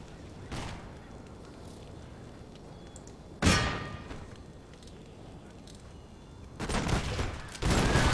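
Musket infantry in the Empire: Total War battle game fires in several separate crackling volleys. One short burst comes early, a sharper one comes midway, and a longer rolling volley comes near the end, with quieter battlefield ambience in between.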